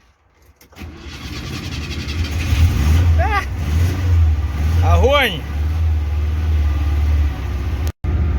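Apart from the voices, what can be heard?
ZAZ Zaporozhets car engine running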